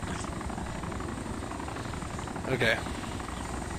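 A helicopter in a video game produces a steady, droning rotor thrum that runs throughout. Players talk over it, and a brief brighter blip comes near the end.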